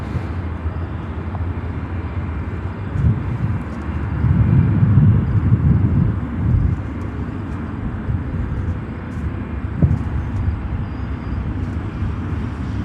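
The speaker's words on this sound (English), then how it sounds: "and that's KLM 777-300 flying back to Amsterdam" A KLM Boeing 777-300 jet airliner flies overhead near Chicago O'Hare, its engine noise a low, steady rumble at a distance that swells briefly in the middle before easing back to a background drone.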